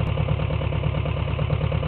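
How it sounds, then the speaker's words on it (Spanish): A tractor engine idles close by with a steady, even low chugging pulse, loud and continuous over a brief stretch with no voices. "Ahora volvemos a arrancar con el tractor."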